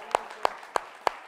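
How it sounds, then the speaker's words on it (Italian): Four sharp, evenly spaced claps ring out about a third of a second apart in a quiet room after a dance performance, isolated and moderately loud rather than a full crowd's applause. "complimenti e l'applauso a Claudio Zanardo"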